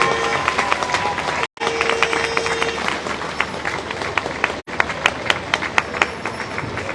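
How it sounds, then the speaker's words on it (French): A crowd applauding the Maxi Banque Populaire trimaran of Armel Le Cléac'h in the Naye lock at Saint-Malo, with dense sustained clapping and scattered louder claps, broken by two brief dropouts. "obligé d'écouter une pluie d'applaudissements dans l'écluse pour l'accueil du Maxi Banque Populaire d'Armel Leclerc"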